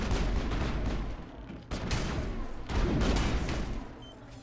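Dense, continuous bursts of gunfire from the Mass Effect video game during a bomb-planting firefight, loud and sustained with rapid overlapping shots and brief dips in intensity.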